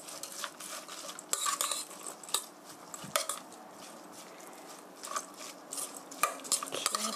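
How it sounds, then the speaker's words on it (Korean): Zucchini and onion batter for meat-stuffed zucchini pancakes is mixed in a bowl, with a utensil clinking and scraping in uneven strokes, close and moderately quiet, with no talk. "양파, 호박은 오늘 그냥 양념으로 들어가는 거예요. 해서 넣어주시고요. 골고루 섞어주세요."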